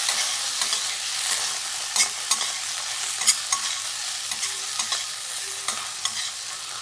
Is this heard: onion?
yes